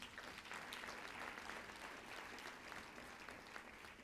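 Audience applause at the Jamaica 55 Diaspora Conference, a dense, sustained clapping from a large crowd in a hall, steady and even throughout, quiet overall with no talk over it.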